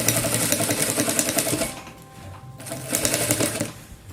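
A sewing machine runs in rapid, steady stitching bursts while sewing denim bias binding for a jeans bathroom set, with a pause in the middle before the stitching resumes.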